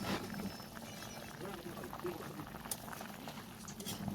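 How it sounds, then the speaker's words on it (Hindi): Water bubbles at a low rolling boil in a pot for fish curry, a faint steady seething patter with soft intermittent clinks in a home kitchen. "अभी उबल गई है, उबल आ गई है, तो इसमें मैं अभी मछली डाल रही हूँ।"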